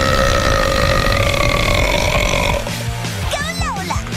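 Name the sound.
loud animated female burp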